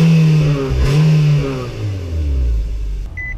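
A 2019 Nissan Sentra engine starts with a turn of the key, cranking and catching with a rising rev before settling into a steady idle, followed by a short electronic chime near the end.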